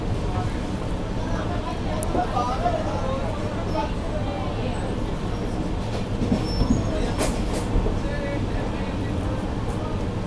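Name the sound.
Rajdhani Express train running through Dholpur Junction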